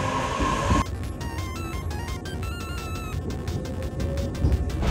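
Train arriving at Umesato station in Japan, a steady rolling rumble with repeated rhythmic clacks and faint high squeals, close and continuous after an opening burst of nearby noise.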